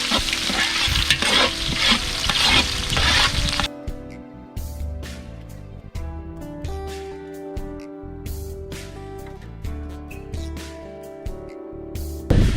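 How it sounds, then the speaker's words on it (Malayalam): Chopped ginger and garlic sautéing in a pan for chicken majboos rice, a loud dense sizzle at first that then drops to quieter frying with repeated scraping stir strokes, no talking. "ഇതിലേക്ക് നമ്മൾ ഇഞ്ചി അരിഞ്ഞ് വെച്ചതും വെളുത്തുള്ളി അരിഞ്ഞ് വെച്ചതും കൂടെ ഇടുകയാണ്. എന്നിട്ട് നമുക്കൊന്ന് വഴറ്റി കൊടുക്കാം."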